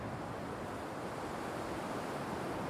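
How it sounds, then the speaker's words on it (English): Sea waves in The Matrix Awakens video game give a soft, continuous wash of surf, faint and steady with no distinct breaks and no talking over it. "Why is the sea getting louder?"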